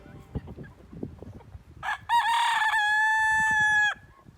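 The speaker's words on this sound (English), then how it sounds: "all these chickens up here in the pasture" Chickens cluck softly in a pasture, then a rooster lets out one loud, drawn-out crow close by.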